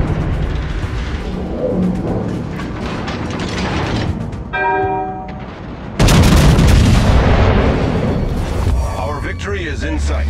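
Battleship main guns firing in World of Warships, aboard the Montana: mechanical turret clanks and a radio-like voice, then a heavy booming salvo that keeps rumbling loudly to the end.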